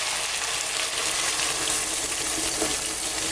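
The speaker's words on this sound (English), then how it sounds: "At this point I'm going to go in with some cold water." Cold water pours steadily into a pot of vegetable soup on the stove, a continuous close rushing hiss with light sizzling underneath and no pauses.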